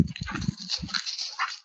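A dog makes short snuffling, whimpering sounds in a room, a few quick faint bursts within under two seconds.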